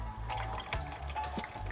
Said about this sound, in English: put some hot water from a kettle